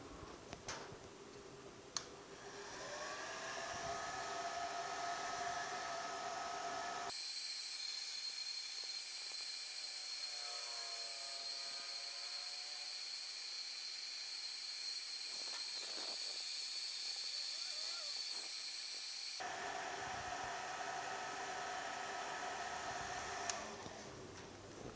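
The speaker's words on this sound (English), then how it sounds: "Let me get these heat shrinked on there." A heat gun shrinks tubing on the wiring of a 1965 Chevrolet Malibu SS, producing a steady, close blowing hiss with a high whine that cuts in and drops out, with faint ticking and no talk.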